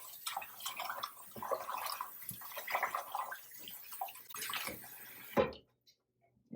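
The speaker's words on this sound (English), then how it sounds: "I'm gonna rinse them with fresh water" Fresh water splashes and pours steadily over black-eyed peas being rinsed for fritters, a continuous near wash of running water with small surges, then it cuts off abruptly into near silence.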